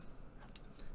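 Scissors snip through fabric or paper material for a back-to-school gift bag, one quick close cutting stroke lasting about a second.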